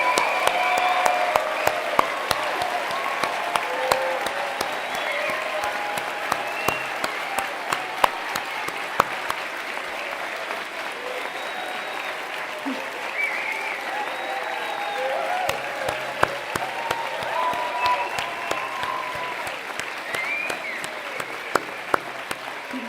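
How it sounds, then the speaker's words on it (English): Audience applause fills a graduation ceremony hall for graduates, steady dense clapping with scattered sharper claps and faint cheers throughout, loud and sustained without a break. "Please would you all join me in giving our marvellous graduates a huge round of applause."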